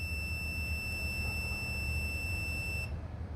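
A continuity tester's steady high-pitched electronic beep holds continuously over a low rumbling background while setting ignition points on a MerCruiser 140 engine, then cuts off abruptly as the points open.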